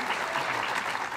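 An audience at a farming conference talk on mycorrhizae breaks into dense, continuous applause, a brief, steady burst of many hands clapping.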